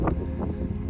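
Wind gusts across a mountain ridge on the Munro Slioch in overcast weather, a steady low rumble of buffeting air on the microphone, short and fairly loud, with no talking.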